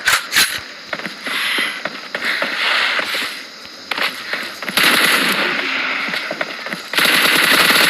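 Rapid automatic gunfire bursts from the battle royale game PUBG, loud and close, with sharp repeated shots clustered in dense volleys and brief pauses, ending in sustained heavy firing.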